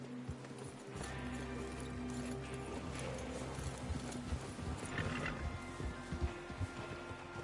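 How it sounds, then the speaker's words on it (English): Horses galloping in Red Dead Redemption 2, a steady rhythmic clip-clop of hooves moving together over an ongoing low rumble of game ambience, at moderate level with no talking. "Get your horses ready."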